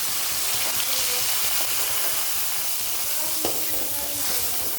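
Potatoes fry in a pan just after a sprinkle of water, giving a steady, fairly quiet hiss and sizzle with a brief stir near the end and no talking.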